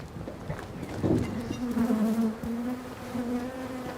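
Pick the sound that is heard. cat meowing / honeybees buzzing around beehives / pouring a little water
honeybees buzzing around beehives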